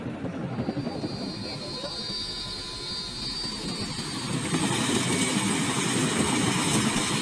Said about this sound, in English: The Chinook is particularly well suited for this maneuver, thanks to its powerful engines, which enable it to maintain a steady hover at low altitudes.